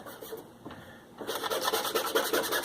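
A squeegee rubs firmly across a vinyl carbon fiber decal with rapid, rhythmic scraping strokes, close and steady, after a quieter stretch of light handling.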